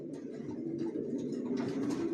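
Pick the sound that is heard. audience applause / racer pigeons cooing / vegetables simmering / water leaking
racer pigeons cooing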